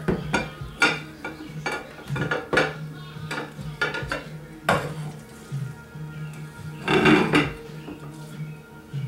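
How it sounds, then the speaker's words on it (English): Pyrex bowl of couscous turned over onto a serving dish, a run of close glassy clinks, scrapes and knocks of glass against dish, irregular and moderately loud, with no speech. "I put it in a Pyrex bowl, and I'm gonna put the dish on top of it. Then I'm just gonna turn it over."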